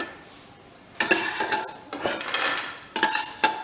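Golden-brown fried fox nuts (makhana) being scooped out of a pan, a run of scraping spoon and metal clinks against the pan in short bursts, close and fairly loud, with no talk.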